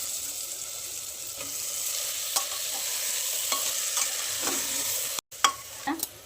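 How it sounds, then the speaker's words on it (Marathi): Horse gram and potatoes sizzle in a hot pan as a spoon stirs them. A steady close frying hiss runs throughout, broken by scraping stir strokes and a brief cut near the end. "हे हुलगं आणि बटाटा हे टाकून घेणार आहे आता आपण याच्यात."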